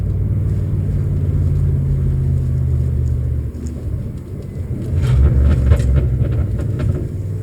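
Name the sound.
car transmission downshifting into first gear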